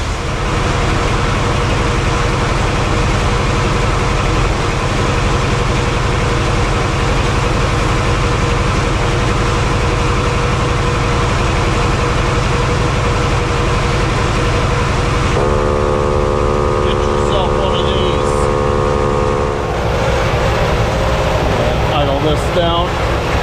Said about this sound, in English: Alright, I'm going to put some air in this tire